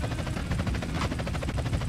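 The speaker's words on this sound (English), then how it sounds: "We got a chopper on our tail. We'll never shake them now." Helicopter chasing the player in GTA San Andreas, its rotor thumping in a fast, steady rhythmic beat, loud and close throughout.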